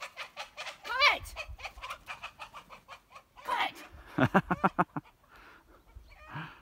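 Chickens cluck and squawk nearby on a village morning in Tusheti, a series of short sharp calls in a burst, with a person briefly speaking among them.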